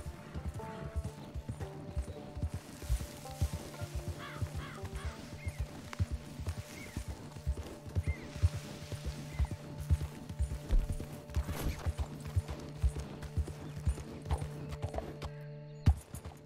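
A horse in Red Dead Redemption 2 walks with steady clip-clop hoofbeats and gives an occasional snort or whinny, over faint in-game mechanical sounds.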